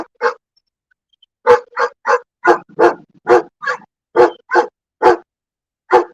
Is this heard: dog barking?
yes